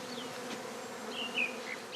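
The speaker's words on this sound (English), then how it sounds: "The bees are clustering now on this branch of a tree" A honeybee swarm clusters on a tree branch on a traditional farm, giving a continuous, soft buzzing hum from many insects, steady and fairly quiet with a brief louder swell midway.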